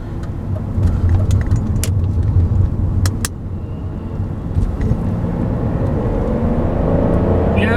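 BMW 750i with a 5.4-litre V12 accelerating hard from inside the cabin, a loud sustained engine roar with rising pitch and a few ticks and clicks early on.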